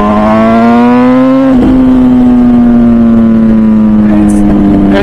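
An MV Agusta Brutale 1000 RR naked motorcycle with a 215 hp engine at high speed on the Nürburgring, a loud, close, sustained high-pitched engine howl holding a nearly steady tone with a brief shift partway through, plus a little wind buffeting.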